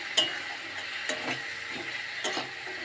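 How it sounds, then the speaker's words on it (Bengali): Chicken pieces being sautéed in oil in a pan make a soft, steady sizzle and frying hiss, with a few sharp ticks of stirring at regular intervals, close up and fairly quiet. "দেখো এবার কষানো হোক, তেল ছাড়লেই আমি চিকেনটা দিয়ে দেবো।"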